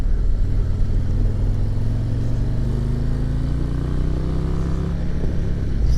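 A bagger motorcycle races around a track, its engine droning steadily and loudly, with rising pitch sweeps as it accelerates through the gears; no voices.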